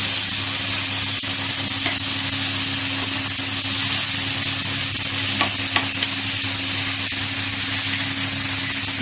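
Chopped tomatoes fry in hot oil in a pan for a stuffed brinjal curry, giving a loud, continuous sizzle with a few stirring scrapes and clicks scattered through it, and no voices.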